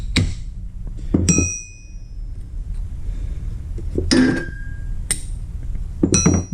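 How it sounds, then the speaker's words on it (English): Metal hammer blows driving a dowel pin out of a broken trailer landing gear box, about five sharp ringing strikes spaced irregularly, loud and close, each with a brief metallic ping. "I'm going to try to hit it through this way since this side isn't messed up yet."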